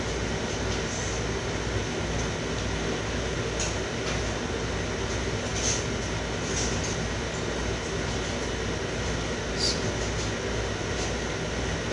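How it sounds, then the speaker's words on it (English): A clothes dryer runs with a steady, loud, broadband rumbling whir that stays constant for the whole stretch, with no clear voices over it. "No, it's the dryer."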